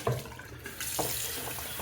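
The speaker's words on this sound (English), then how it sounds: "So rinsing out the sink here." Water runs steadily from a faucet to rinse out a sink. It starts with a lighter trickle and a few splashes, then swells into a fuller, continuous rushing stream that stays close and clear.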